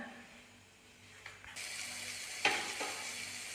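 A prawn roast simmers in a pan, giving a faint soft sizzle that swells in brief bursts, with light clinks as it is stirred, quiet and without voices.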